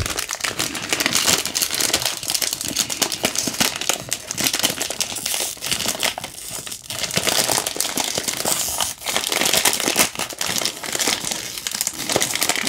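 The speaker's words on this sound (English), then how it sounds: "this new packaging is just struggling for me. I'm gonna just open it like this." Plastic packaging for a Beast Kingdom Mini Egg Attack Deadpool figure crinkles and crumples continuously as it is torn open, close and loud, with no talking.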